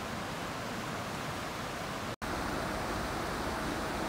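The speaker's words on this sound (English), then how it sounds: "I know this creek next to me is pretty loud" A loud creek rushes right beside the listener near the Cincinnati Eastern Railroad on Batavia Hill, a dense, unbroken hiss of flowing water that fills everything, with one abrupt split-second dropout midway.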